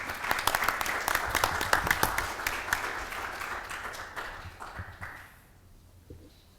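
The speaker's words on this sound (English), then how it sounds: "Give him a round of applause" An audience at a public talk on civil rights applauds a speaker about to take the stage, a crisp burst of many clapping hands that fades out gradually toward quiet.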